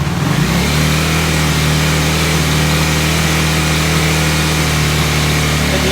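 A KTM 390 Duke motorcycle single-cylinder engine idles steadily at close range after a brief blip at the start, holding a constant low hum with no voices.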